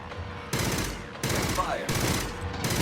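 Micro-rocket weapon fire in the game Aliens, sustained loud bursts of rapid shots in three long volleys separated by brief pauses, with a voice faintly beneath.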